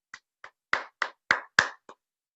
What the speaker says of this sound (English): let me just give him a round of applause.